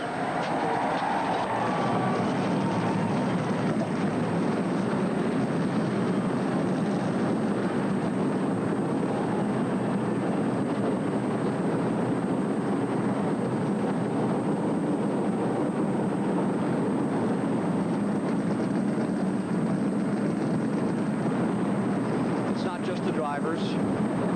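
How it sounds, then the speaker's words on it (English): A field of race cars fires up at the start of the 1985 Daytona 500, a dense, continuous roar of many engines that holds steady and loud for the whole stretch, with crowd noise mixed in. "Gentlemen, start your engines."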